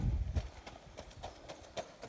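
Horse hooves walking in an arena, a regular series of soft clip-clop footfalls at close range with no talking.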